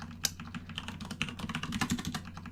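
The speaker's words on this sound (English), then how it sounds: "I can't tell if this keyboard is way too loud." Rapid clacking keystrokes on a loud computer keyboard, close and continuous, with a few sharper accented hits over a constant low hum.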